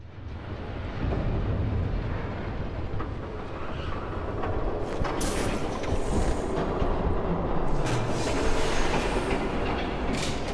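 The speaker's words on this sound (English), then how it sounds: "There's a train coming. Take cover." A train rumbles past in the Batman Telltale video game, a loud, steady roar of rolling wheels and rail clatter lasting throughout, with brief bright hissing bursts near the end and no speech.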